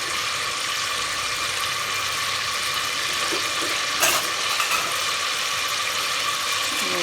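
A large onion fries in a pan for karela gosht, a loud, steady close hiss with a sharp burst around the middle and light stirring scrapes, with no talk.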